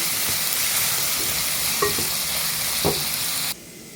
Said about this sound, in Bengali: এটাকে এখন একটু কষিয়ে নেব